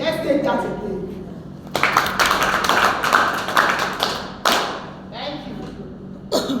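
An audience claps again after a voice speaks: a few seconds of dense, lively applause that tapers off, followed by a brief flurry of scattered claps near the end.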